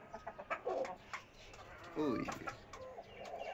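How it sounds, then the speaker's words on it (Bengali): Native deshi chickens in a rooftop shed cluck and call in short bursts at close range over a steady background hiss, and a voice briefly speaks. "এটা হলো আমার মুরগির শেড। দেশি মুরগি।"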